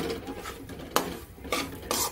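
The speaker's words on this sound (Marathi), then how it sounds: "आता मूग डाळ आणि बेसन असं व्यवस्थित मिक्स करून आपल्याला मूग डाळीचा ओलसरपणा जाईपर्यंत परतून घ्यायचा आहे व्यवस्थित." Moong dal and besan stirred and roasted in a pan, a continuous gritty scraping under a light sizzle, broken by a few louder spatula knocks against the metal, close up with no voices.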